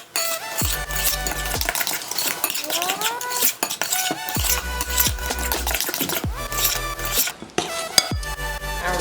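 Banana bread batter being stirred by hand in a mixing bowl after sugar and vanilla go in, with a utensil repeatedly clinking and scraping against the bowl while background music plays throughout.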